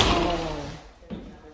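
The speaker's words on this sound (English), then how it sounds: "Oh, the door." A sliding bedroom door in a house shuts with a single dull thud near the end of a brief stretch of broadband noise, with talking around it.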